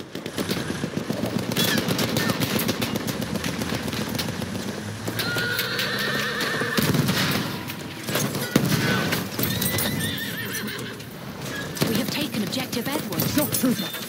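In the video game Battlefield 1, a horse neighs loudly amid galloping hooves, while machine gun fire rattles throughout and occasional gunshots crack nearby.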